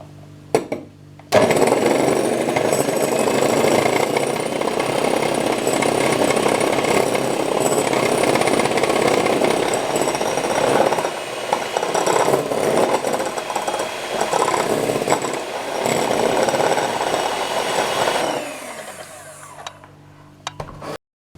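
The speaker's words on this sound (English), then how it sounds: "I'm just going to add a little bit of sugar and I whisk." An electric mixer whisks sugar into chocolate muffin mix batter with a loud, continuous mechanical whir and rattle that starts abruptly and runs steadily for about seventeen seconds before cutting off.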